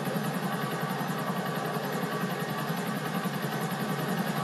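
Helicopter in GTA 4 flying over Liberty City, a continuous buzzing rotor and engine drone with rapid, even pulsing, close and steady.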